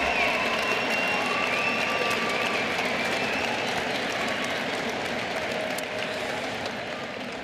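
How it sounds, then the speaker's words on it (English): A large audience at a skills competition opening ceremony claps in a dense, steady wash of applause that fills the whole stretch and fades slightly toward the end. "So a nice round of applause to them as well."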